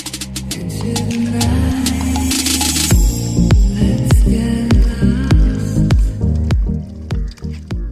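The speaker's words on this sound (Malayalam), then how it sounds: "ഇത് എല്ലാം ഇട്ട് നല്ല മിക്സ് ചെയ്യണം." Chicken, 700 grams, being mixed by hand with green chilli masala for Andhra-style chicken, giving loud, close, wet squelching squishes in an uneven rhythm.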